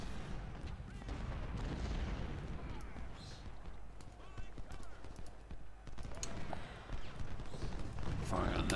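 Artillery booms roll across a battlefield in the video game Legendary Confederate Campaign, scattered thuds and rumbles amid gunfire and hoofbeats while soldiers shout over the din.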